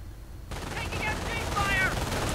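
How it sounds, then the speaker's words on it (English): In Company of Heroes, an MG42 machine gun opens up with bursts of rapid gunfire amid other battle noise, while a commentator talks over it. "MG42 opening up, and the Riflemen doing quite a bit of damage there"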